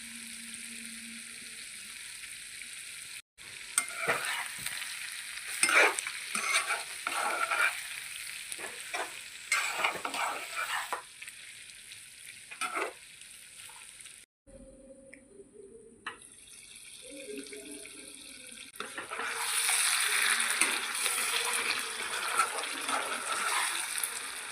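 Duck meat fries in oil as a paste of ground cumin, coriander and pepper is stirred in, a steady loud sizzle with scraping stir strokes, broken by a brief pause and a stretch of running tap water before the hiss swells again.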